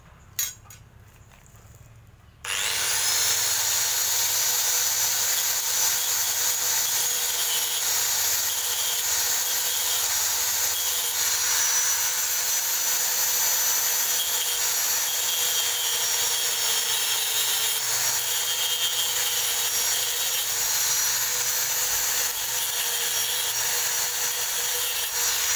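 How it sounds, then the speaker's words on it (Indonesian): A loud, steady high-pitched whine of a grinder cutting runs continuously for over twenty seconds after a brief quiet start, with no talking. "saya menggunakan grinder agar lebih mudah"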